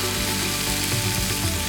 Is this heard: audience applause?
no